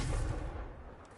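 In Hogwarts Legacy, a Confringo fire spell bursts as a single booming blast that rumbles and fades over about a second, deep and fairly loud with no voices over it.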